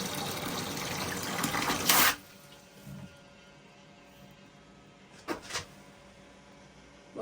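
Water gushes loudly into a container loading a 3D-printed PLA or PETG test part, the pour stopping after about two seconds, then a brief second splash of pouring later amid quiet room tone.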